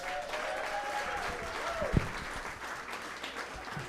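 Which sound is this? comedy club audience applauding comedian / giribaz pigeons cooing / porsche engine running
comedy club audience applauding comedian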